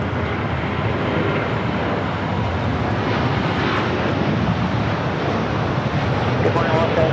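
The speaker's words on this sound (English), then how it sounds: "Air Premia Dreamliner heading back to Seoul, rolling down 25 right." Air Premia Boeing Dreamliner jet rolling down runway 25 right at LAX on its takeoff run, a loud, broad engine rumble mixed with wind buffeting on the microphone, with a voice talking over it.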